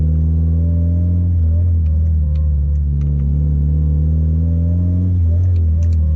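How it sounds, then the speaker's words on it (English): A Mitsubishi Evo drives along in first gear with a pronounced gearbox whine riding over the engine's deep rumble, the pitch rising and falling as it pulls, heard close from inside the car. "the gear whine in first"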